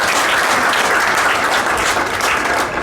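Audience applause at a wooden boat awards ceremony, a steady dense wash of clapping that stays loud and even throughout with no speech over it.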